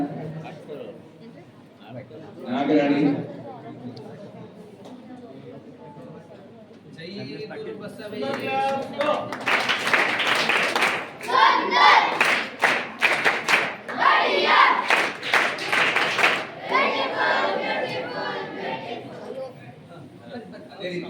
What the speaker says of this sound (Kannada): ಅವರಿಗೊಂದ್ಸರಿ ಜೋರಾಗಿ ಚಪ್ಪಾಳೆ ಹಾಕಬೇಕು ಅಂತ ನಾನು ವಿನಂತಿ ಮಾಡ್ಕೊಳ್ತೀನಿ